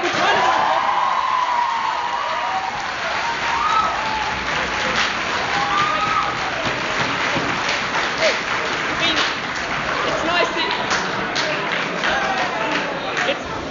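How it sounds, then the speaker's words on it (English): An audience claps at a student guild presidential debate, sustained and fairly loud with a few whoops mixed in, a busy wash of hands lasting throughout. "It's really nice that you're all clapping"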